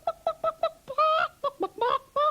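A voice imitates hens clucking, giving a run of short, bright, evenly spaced clucks followed by a few longer drawn-out bawks, close and clear against a quiet background.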